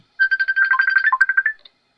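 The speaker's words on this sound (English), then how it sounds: "I'm getting a phone call." A phone rings with an incoming call: a rapid, trilling electronic ringtone of quick bright pulses plays clearly and alone for about a second and a half, then stops.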